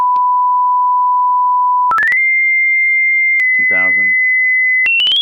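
Pure sine test tone steady near 1,000 hertz, then stepping up sharply to a higher pitch and later higher again, loud and clean, with a brief burst of speech partway through.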